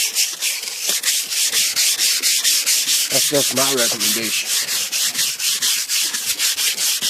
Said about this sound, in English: I recommend sanding with your hand for light duty